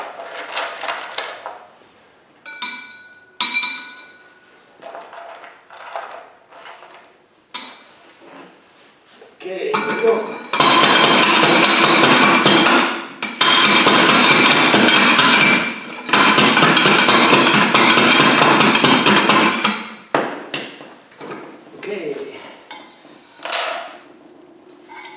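A hand-operated rock crusher grinds a batch of rock for a fine crush, with scattered clinks and knocks at first, then two long stretches of loud, dense crunching and grinding, followed by sparser rattles.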